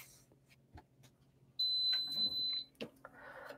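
A pressing machine's timer sounds a steady, piercing electronic beep lasting about a second, set over quiet workshop handling noises and soft rustling.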